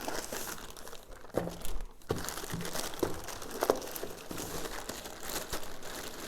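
A thin plastic AliExpress parcel bag is handled close up, giving irregular crinkling and rustling with a few sharper crackles and brief pauses.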